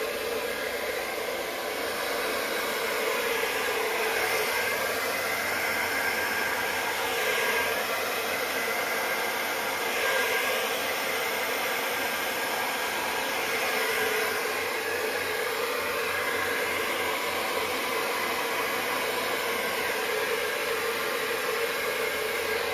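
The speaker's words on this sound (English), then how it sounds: "So let's blow the white over the other paint." A hair dryer blows a continuous, close, even rush of air over a Dutch pour acrylic painting, pushing white paint across a puddle pour, with no talking throughout.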